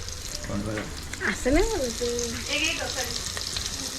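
Garlic and onion fry in oil for a jackfruit curry, a steady close sizzle running throughout while voices talk over it.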